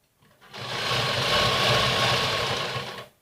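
Sewing machine stitching elastic onto a pajama waistband, a steady continuous motor whir and needle clatter running for nearly three seconds close up, with no talk.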